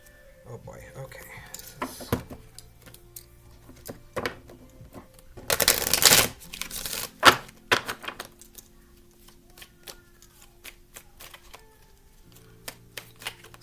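Tarot cards shuffled by hand in bursts of crisp riffling and tapping, close and clear, with a louder flurry midway and quieter clicks in between.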